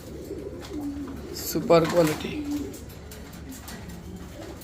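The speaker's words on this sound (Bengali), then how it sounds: "এটা একটা মাদি কবুতর" A female black pigeon at a pigeon farm gives a soft cooing call near the middle, over a steady background of other birds and someone talking.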